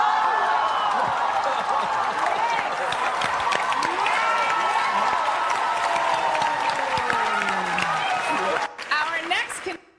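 Audience claps and cheers for an introduced performer, a lively wash of hand claps and excited voices that cuts off abruptly near the end.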